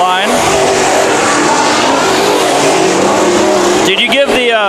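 Race cars roar around the Bakersfield Speedway dirt track during a heat race, a loud sustained engine howl with pitch shifts as cars pass, under an announcer's voice.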